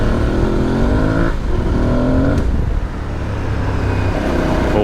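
An Aprilia Tuareg 660 motorcycle accelerating hard in second gear from slow speed off-road, its engine note loud and close, rising in pitch through two quick surges with a brief dip between them.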